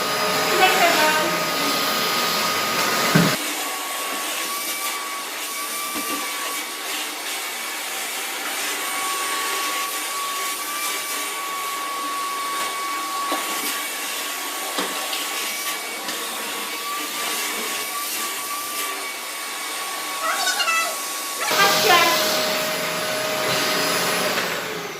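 A newly unboxed vacuum cleaner runs with a steady loud motor whine and airflow roar for most of the stretch, starting abruptly and cutting off near the end, with faint voices nearby.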